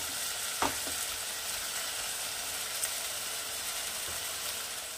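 Chicken sizzles and crackles steadily in a hot pan as it is sautéed for chicken tehari, with a few utensil scrapes and knocks. The frying is moderately close but fairly soft.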